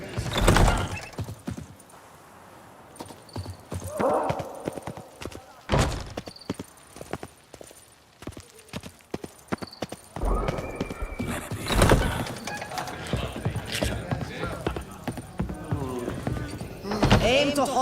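Horse hooves clip-clopping with sharp neighs and whinnies in The Witcher 3: Wild Hunt, Blood and Wine, with irregular hoof thuds near and loud, broken by quieter stretches and voices talking in between.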